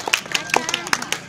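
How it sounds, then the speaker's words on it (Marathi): An audience at an Independence Day event claps in a quick run of sharp, close claps with a brief gap, over a background murmur of crowd voices. "टाळ्या वाजवा"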